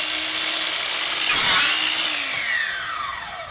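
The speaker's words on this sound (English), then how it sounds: "you can cut straight down on the casing" A DeWalt 7-1/4-inch 20V Max cordless sliding compound miter saw cuts straight down through wooden casing: a steady motor whine, a loud bright burst as the blade bites the wood, then the motor spinning down alone.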